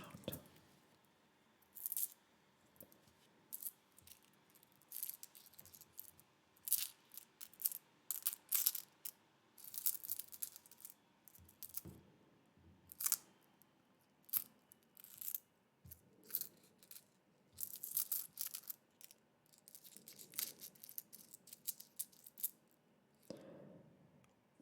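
Coins handled close to the microphone for ASMR, giving soft, irregular clinks and metallic taps in scattered bursts over quiet background, with no speech.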